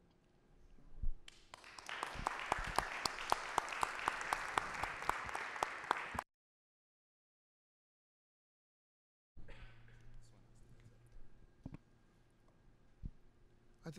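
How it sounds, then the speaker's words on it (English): Audience applause at an Islamic Arts Biennale session, a dense burst of clapping that swells and runs for several seconds, cuts to silence, then returns as sparse scattered claps and room noise. "I think the applause there was"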